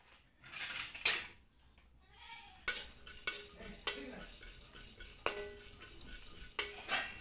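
White sesame seeds being dry-roasted in a pan while cooking a mutton dish: intermittent metallic scrapes and clinks of a spoon against the pan over soft crackling, close and fairly quiet.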